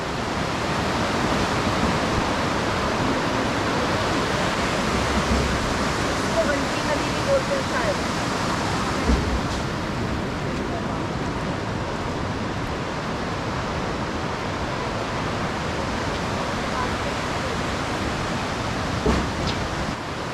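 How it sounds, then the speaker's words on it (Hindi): The rushing Kali river roars as a steady, loud, broadband torrent that fills the whole stretch without pause, with no voices over it. "वेग आप देख सकते हैं काली नदी का"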